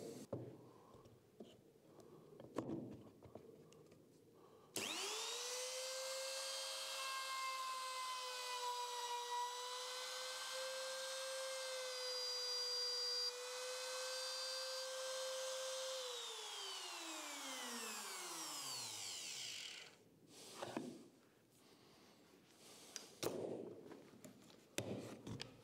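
A router with a keyhole slot jig plunges through plywood set up on blocks, giving a loud, steady high-pitched whine for about fifteen seconds that then winds down, with bench clatter and handling noise before and after.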